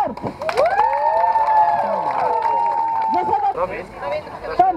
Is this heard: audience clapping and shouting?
yes